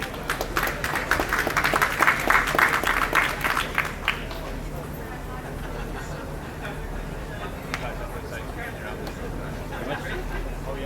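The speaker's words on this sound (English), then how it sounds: "a big round of applause" An audience at a live event claps in a dense burst for about four seconds, then the applause fades into a low room murmur.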